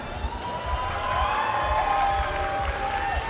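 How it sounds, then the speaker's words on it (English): Crowd applause and cheering at a Pokémon international championship event in Latin America, a sustained dense clapping that fills a large venue, with some voices mixed in. "let's give one final round of applause now for the lovely staff and crew making this lovely"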